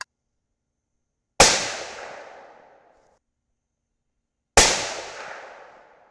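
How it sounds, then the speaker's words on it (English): Two sharp rifle shots fired during an accuracy test of a Vortex Strike Eagle 4-24x50 scope, each a loud crack with a long rolling outdoor echo, spaced about three seconds apart with silence between. "do 3 more shots at the center dot"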